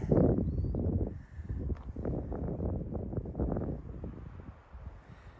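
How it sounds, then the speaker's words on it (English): Steady wind buffeting the microphone outdoors on a mountain climb, a low rumbling gusty roar that rises and falls, with no voices. "because it's so windy"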